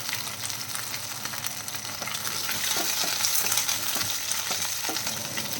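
Green chillies dropped whole into a pan with curry leaves fry with a dense, steady sizzle that swells slightly midway, close and continuous with a few faint clicks, no voices.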